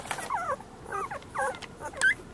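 Puppies sitting in a parked car outside an animal hospital whimper and whine in a few short, high, wavering cries, close and fairly quiet.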